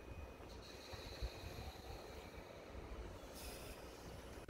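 Freight train hauled by a JNR-liveried EF65 electric locomotive, No. 2090, easing into motion at night at Soga station, a low steady rumble with faint hiss and a brief brake-like squeal, distant and quiet.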